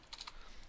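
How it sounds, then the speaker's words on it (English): Quick keystrokes on a computer keyboard while code is typed, a few soft clicks in a short burst, faint and close. "I'm just going to type this out"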